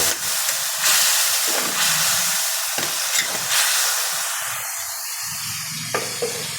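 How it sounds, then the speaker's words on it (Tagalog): Bagoong shrimp paste sizzles with garlic, onion and tomato in a hot pan, a loud, steady hiss of frying close up with occasional clinks of stirring, no talk. "Ginisa ko sa bawang, sibuyas, kamatis ng ating bagoong."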